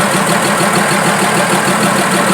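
A Fiat 190 truck engine runs at a steady, loud idle with a constant low rumble throughout, no voices over it.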